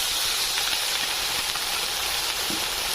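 Ginger garlic paste, tomato and chili hit a hot pan during village cooking for a catfish curry, giving a steady, loud hissing sizzle that fills the scene without pause and with no voices.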